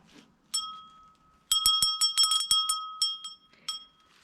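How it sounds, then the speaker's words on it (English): A Princess House glass bell rings clear and high, one strike followed by a rapid flurry of bright, sustained chimes and a few last tings, close and alone in a quiet room. "in here we have some Princess House, including a lovely bell."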